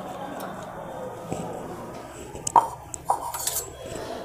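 A spatula stirs a raw beetroot and carrot salad in a dish, giving scattered light scrapes and a few sharp clinks against the bowl amid quiet background noise.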